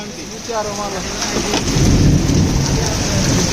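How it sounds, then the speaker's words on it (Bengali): A heavy downpour in Tejgaon, Dhaka, hisses loudly as a deep roll of thunder swells beneath it, with a brief voice heard near the start. "এই যে কঠিন বৃষ্টি হইতেছে।"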